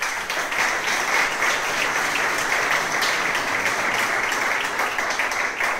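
Steady applause from an audience at the awards ceremony of the third Ruta de la Tapa in La Oliva, a dense, even wash of clapping lasting throughout without pause.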